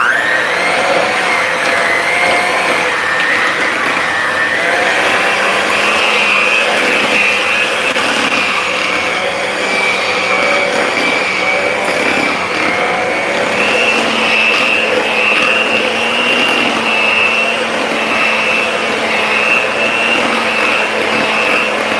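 An electric hand mixer beating cookie dough, a loud steady motor whine with a grinding, rattling texture that runs continuously without pause.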